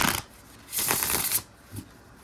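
A gold-edged indie deck of playing cards being shuffled by hand, a brief riffle burst followed by a longer crisp flutter and a short final patter, close and clear with no talking.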